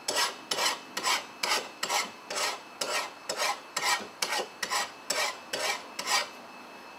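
A metal file rasps across a garden tool blade in about a dozen rhythmic, even strokes, each a short gritty scrape close by, with quiet gaps between them.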